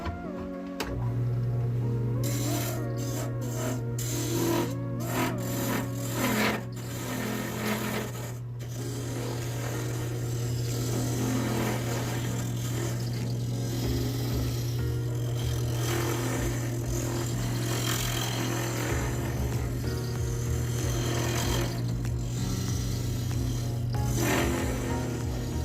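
A wood lathe hums steadily while a large skew chisel cuts a bottle stopper, with scraping and ticking tool contact throughout and bursts of sharper noise near the start, close and continuous.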